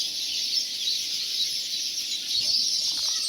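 Dense, continuous chatter of many small birds massed in a roadside tree beside an Israeli highway, a steady bright twittering wash with faint low traffic rumble underneath.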